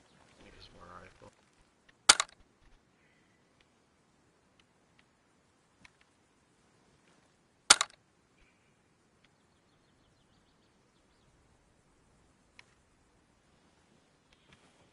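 Two sharp rifle shots crack out about five seconds apart across a quiet outdoor land-navigation area, each a single loud report with a brief tail. A faint voice murmurs briefly at the start.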